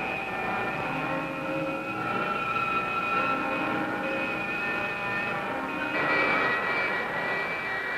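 A jet aircraft engine roars steadily with a sustained whine, swelling louder as thrust increases toward the end, with no voices.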